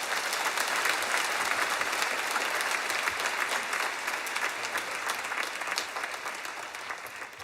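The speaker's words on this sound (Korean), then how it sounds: "강주민 목사님 나올 때 주님 앞에 뜨거운 감사의 박수 올리겠습니다." A church congregation applauds warmly at a dawn revival service as a pastor comes forward, with dense, sustained clapping that fills the room and thins slightly toward the end.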